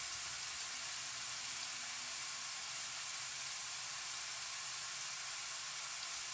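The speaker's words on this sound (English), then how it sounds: "we're just going to cook this until it's nice and, you know, seared on each side" Chicken sears in a hot pan for jollof rice, giving a steady, even sizzle and hiss throughout with no talking.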